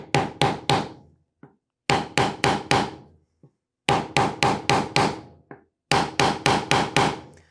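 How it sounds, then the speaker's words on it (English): Sharp hammer blows drive wooden tenons into a step stool leg in quick groups of four, repeated steadily with brief pauses, close and loud with no voices. "now I can continue hammering until the cross member sits flush on top of my leg"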